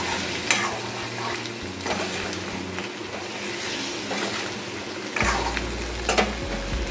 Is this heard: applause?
no